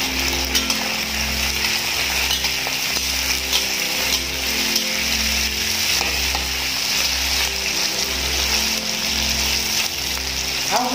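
Onion and other ingredients for tomato crab are stir-fried in a hot pan, a loud steady sizzle with repeated scraping strokes of the spatula in a regular rhythm, close and without talking.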